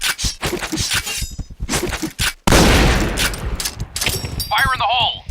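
Shotgun blasts ring out in the online shooter Point Blank, loud booming shots in rapid succession mixed with game sound effects and announcer voice callouts.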